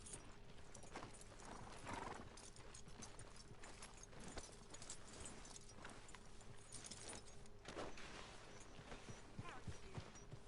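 Horse hooves clip-clopping in a video game, faint and steady under a low hum of ambient game sound, with occasional snorts and mechanical clicks.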